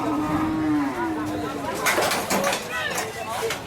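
Cattle moo at the Savè livestock market in Benin, a long low call near the start with further lowing among market chatter and background voices.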